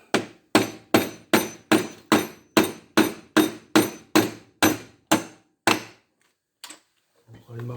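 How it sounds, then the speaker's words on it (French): A hammer pounds a metal gas distributor part from a gas stove clamped in a vise, about a dozen sharp, evenly spaced ringing blows close up, then a pause and some faint handling noise. "On prend le marteau."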